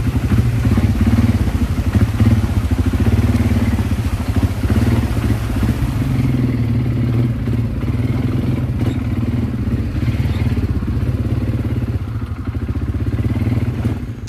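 An ATV engine drones loud and steady throughout an off-road ride in Bali, a continuous low rumble with clattery texture and slight changes in revs.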